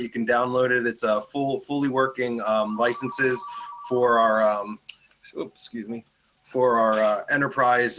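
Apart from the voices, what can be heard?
telephone ringing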